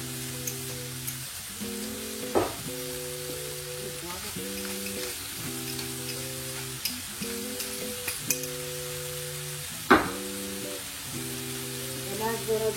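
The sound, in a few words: tomatoes added to sizzling seafood stew pot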